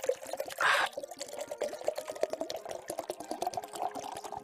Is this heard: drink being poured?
yes